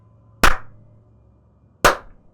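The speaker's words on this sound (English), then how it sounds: "deliberate, methodical clap" Two sharp, isolated hand claps land about a second and a half apart, slow and deliberate, each with a short ringing tail over quiet background.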